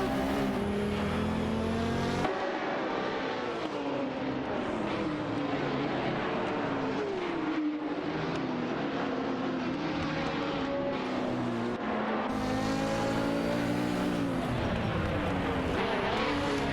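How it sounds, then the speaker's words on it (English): Porsche 917/20 and Ferrari 512s race cars battle in a racing video game, their engines droning steadily throughout with rising and falling pitch as they jostle for position. "The Porsche 917/20 is going head-to-head with the Ferrari 512s in this intense fight for position."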